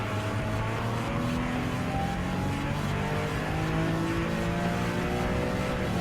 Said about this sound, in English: Full throttle and reached up onto the checker flag